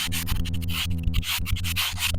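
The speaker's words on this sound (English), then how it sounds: "we're going to go in with a 320 grit" Hand sanding of guide-coated paint on a classic Ford Mustang with 320 grit sandpaper during scratch repair, a steady run of rhythmic rasping strokes, close and loud with no talk.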